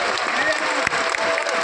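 A crowd at a religious gathering claps loudly to welcome a group of saints, a dense, close roar of hands with cheering voices mixed in.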